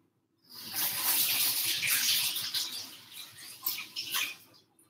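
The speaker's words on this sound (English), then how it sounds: "let me go wash her hands quickly." Tap water runs into a sink as hands are washed, a close splashing rush with uneven patter and bursts that swell and ebb for about four seconds before stopping.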